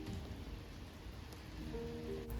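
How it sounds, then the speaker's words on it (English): Steady rain falls in a churchyard beside a small house at the Repin Academy of Arts in Russia, a continuous soft hiss of drops with faint patter on surfaces, with no voices. "The weather has changed and it's raining"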